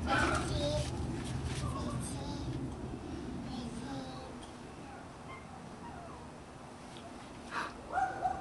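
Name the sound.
dog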